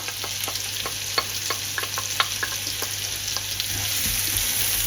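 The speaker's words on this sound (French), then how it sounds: "Maintenant on va y ajouter les oignons qu'on a émincés finement." Finely sliced onions fry in a knob of butter in a pan, a steady close sizzle with scattered crackles and stirring clinks that builds slightly toward the end.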